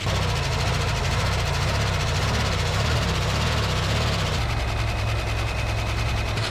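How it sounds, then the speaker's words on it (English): A 1974 AMC Hornet engine, abandoned for 31 years, idles steadily and evenly with a close, continuous rumble and a busy mechanical clatter from a noisy valve train. "Guys, this thing is idling like a champ."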